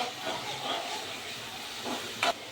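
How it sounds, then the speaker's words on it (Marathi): Onion frying in a pan, a faint steady hiss with a brief louder burst near the end, heard alone without speech. "मग आता ती कांदा फ्राय करते"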